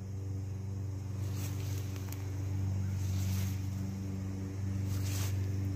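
A grass cutter running nearby outdoors in a garden, a steady low engine drone holding on throughout with faint wind-like hiss above it, no talk.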